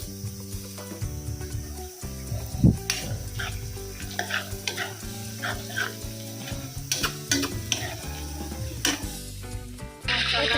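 Chicken pieces frying with masala, ginger-garlic paste, turmeric and chilli in a pan, a steady close sizzle with stirring clatter and scraping of the utensil running throughout alongside a background of music-like tones.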